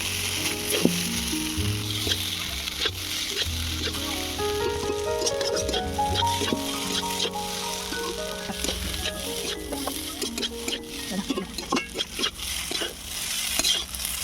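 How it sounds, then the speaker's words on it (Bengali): Egg chow mein fries and is stirred in a hot pan, with a steady close sizzle broken by frequent clinks and scrapes of a utensil against the metal, and faint background sounds. "আবারও ভালো করে চাউমিনটা ভেজে নেব"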